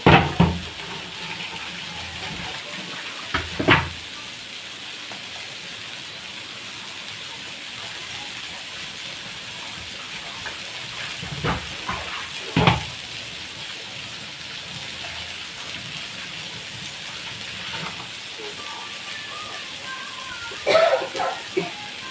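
Oil sizzles in a pan for brinjal and ginger curry as a steady, soft hiss throughout, broken by a few sharp utensil clatters, with a voice speaking now and then.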